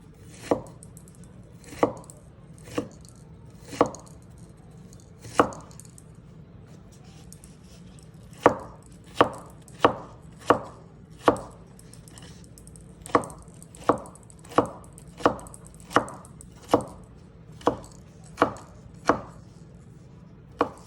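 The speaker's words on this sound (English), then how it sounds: "All right, so now we're doing the celery. I like to cut it 2 at a time." A knife chops celery on a board for egg rolls, two stalks at a time, in about twenty crisp, separate thuds. The strokes come at an uneven pace with short pauses between bursts, close and clear over a quiet room, with no speech.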